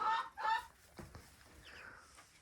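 Chickens cluck in short, close bursts, with a couple of louder calls at the start followed by softer scattered clucks in a quiet farmyard coop.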